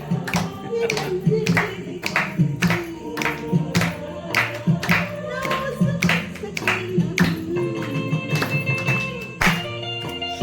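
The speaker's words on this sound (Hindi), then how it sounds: "तालियां बजती रहनी चाहिए" Audience at an outdoor song programme clapping in a steady, rhythmic beat, close and loud, with a few voices mixed in beneath the claps.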